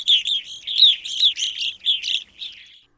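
Evening grosbeak calls ring out in a steady series of about nine loud, clear chirps, each short and evenly spaced, close and alone with no other sound.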